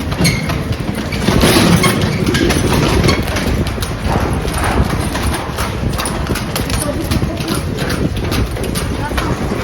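Horse hooves clip-clop steadily as a horse-drawn carriage rolls through Meknes on a tour, the rhythmic beats half-buried in loud, continuous street and wind noise, with people talking.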